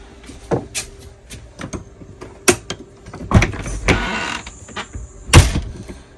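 A travel trailer's front screen door swings shut and its small lock is set, giving several sharp clicks and knocks with a sliding scrape in the middle, close and fairly loud, with no talk.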